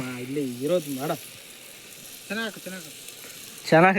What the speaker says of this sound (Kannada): ಬೆಳ್ಳುಳ್ಳಿ ಪೇಸ್ಟ್ ಹಾಕ್ತಾವನೆ